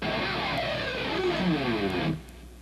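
An electric guitar pick slide, a single loud, gritty scraping sweep that rises and falls in pitch over about two seconds, then cuts off abruptly.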